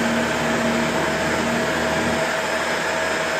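A Shark Rotator Powered Lift-Away vacuum cleaner runs steadily up close, a loud continuous motor whine and airflow roar with a faint tonal hum and no pauses.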